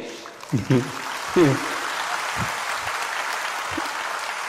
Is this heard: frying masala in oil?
no